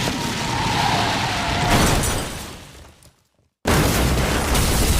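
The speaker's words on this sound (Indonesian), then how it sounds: "tiba-tiba saja bus yang membawa para rombongan anak SMP ini mengalami pecah ban sehingga membuat mereka terjatuh ke dalam jurang" A bus tire bursts and the bus plunges into a ravine: loud, sustained crashing and roaring noise that cuts to a brief moment of silence, then resumes at full force.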